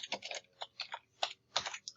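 A computer keyboard is typed on in quick, uneven bursts of soft clicks, close and fairly quiet, with no talking over it.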